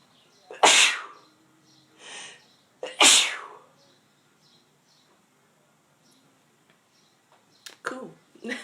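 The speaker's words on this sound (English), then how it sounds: "I'm gonna sneeze, hold on." Two loud sneezes close to the microphone, a couple of seconds apart, with a smaller burst between them and faint shuffling noises afterward.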